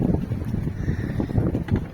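Strong wind gusting at a Greek island anchorage aboard a sailboat, a heavy low rumbling buffet against the microphone with surging pulses and a faint watery hiss, no voices.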